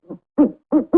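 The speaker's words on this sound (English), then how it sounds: "Owl." An owl hoots four times, one soft short note and then three fuller, louder hoots in an uneven rhythm, close and clear with nothing else around them.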